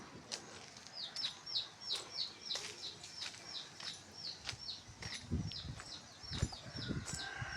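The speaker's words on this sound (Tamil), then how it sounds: "கோழி குஞ்சு கத்துது, இந்த எப்படி கத்துது பாருங்க" A baby chick at home peeps over and over in fast, high, thin chirps. The run is steady and close. Soft knocks and handling noises sound underneath, and no one talks.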